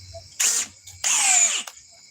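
Power drill on speed 2 driving screws into pre-drilled holes, two close, loud whirring bursts, the second longer and winding down as the screw seats.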